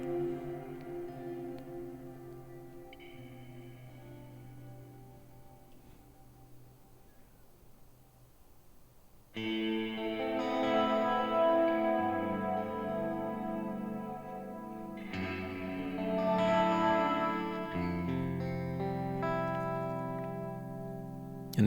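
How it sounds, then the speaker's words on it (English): An ILLUMINE reverb pedal under expression control at toe-down gives a guitar sustained chords drenched in deep, dark reverb, swelling louder midway with long echoing tails and brooding low tones. "when I'm at toe down, I want a darker, brooding style reverb"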